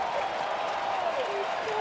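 A ballpark crowd at an ALDS playoff game applauds in the bottom of the sixth inning, trying to rally the Oakland A's; steady, broad wash of clapping and crowd noise with a faint voice gliding through.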